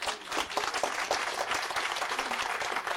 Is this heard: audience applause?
yes